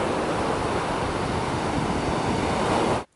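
Small waves wash onto a beach in a steady broadband rush with wind buffeting the microphone, loud and close, cutting off abruptly at the end.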